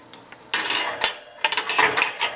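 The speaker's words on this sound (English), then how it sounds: "now let's put it in our oversized" A dish being slid into an oversized oven in a home kitchen: after a quiet start, a loud clattering of cookware and metal, with a burst at the midpoint and several more close knocks and rattles toward the end.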